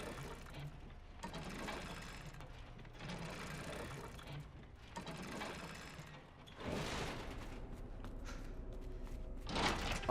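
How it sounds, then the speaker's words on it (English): A crank is turned to open a shutter in the Resident Evil 2 video game, producing repeated ratcheting mechanical bursts in a rhythmic cycle, followed by a louder grinding clatter as the shutter moves. "we're going to come over here, use the crank."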